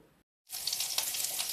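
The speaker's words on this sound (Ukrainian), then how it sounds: "Смажаться мої котлетки." Meat patties fry in hot oil in a pan, a bright continuous sizzle with crackling pops that starts abruptly after a brief silence and stays close and steady.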